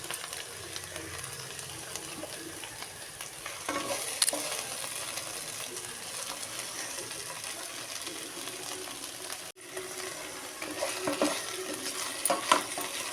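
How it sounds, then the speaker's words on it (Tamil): Okra sautés with salt in a hot pan, giving a steady close sizzle with frequent spoon scrapes and stirring. The sound drops out for a moment about two-thirds of the way through, then the frying and stirring pick up again and grow louder. "உப்பு போட்டு இப்போ வதக்கிட்டு இருக்கேன்"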